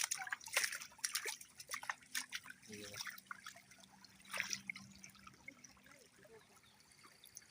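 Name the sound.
water flowing along a field irrigation channel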